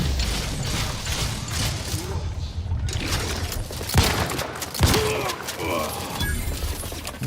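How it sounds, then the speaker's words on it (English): Gunfire during a fight at an enemy camp in the video game The Outer Worlds 2 on hardest difficulty, a dense, continuous clatter of shots and mechanical clanks with a couple of heavier impacts, under a steady background din. "There's so much shooting."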